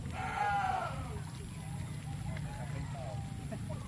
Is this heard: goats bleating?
yes